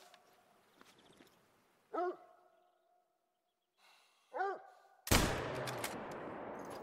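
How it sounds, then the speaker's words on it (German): Rifle shot at a brown bear in theHunter: Call of the Wild: two short, wavering animal calls ring out in quiet woods, then a single sudden, loud blast with a long rumbling, echoing tail. "da schießen wir doch mal rein"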